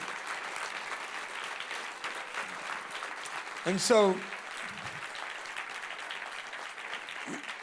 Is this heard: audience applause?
yes